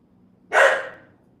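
A single sharp dog bark rings out close and loud, then trails off quickly into quiet.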